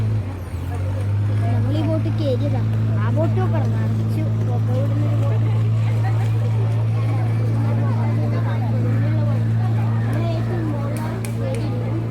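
A loud, steady motorboat engine drones throughout on a boat ride at Parassinikadavu, Kerala, with people chattering over it.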